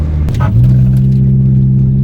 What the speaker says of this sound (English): That was the bottoming out, but this thing is dumped